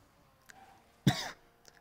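A single sharp cough sounds close by against a quiet background, with a faint breath just before it.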